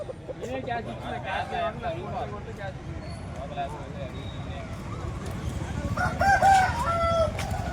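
Chickens cluck and a rooster crows amid a busy crowd of chattering voices at a poultry market in Bhadradri Kothagudem, with the crowing rising clearly near the end.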